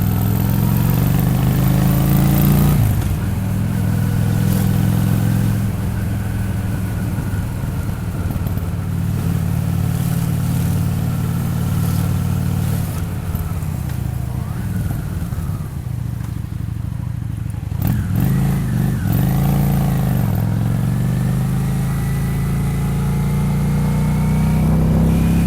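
A Honda Shadow VT600 motorcycle rides along the quays of Auxerre. Its engine drones steadily and up close the whole time, with the pitch rising and falling as the bike speeds up and slows down.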